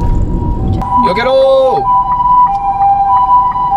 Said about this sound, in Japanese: 救急車を通せー